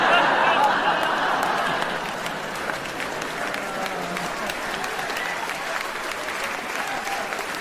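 Applause from the audience at a stand-up comedy show fills the room, loudest at first and then settling into steady, thinner clapping that carries on for several seconds.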